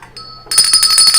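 An electronic bell rings for breaking news: a short tone, then a bright, loud chiming ring that repeats rapidly in a steady rhythm, close and alone.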